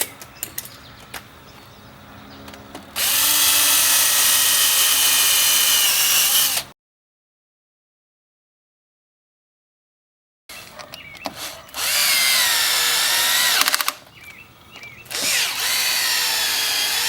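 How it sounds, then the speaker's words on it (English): A power drill bores holes through a boat hull while fitting splash guards, running in two loud sustained bursts of a few seconds each, with a silent gap between them and some quieter handling noise around them. "put one screw in, and then finish drilling the"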